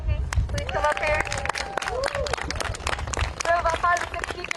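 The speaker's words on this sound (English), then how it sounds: "So can we have a round of applause?" A crowd at a student protest in Washington, D.C. applauds steadily, dense clapping filling the room, with some talk and cheering mixed in.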